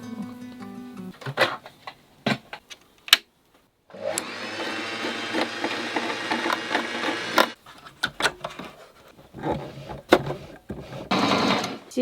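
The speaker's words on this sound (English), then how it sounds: "do you want to help me to sew?" A domestic sewing machine running aboard a narrowboat, steady close whirring bursts of stitching, a long run in the middle and shorter ones later, between sharp clicks and a few quiet words.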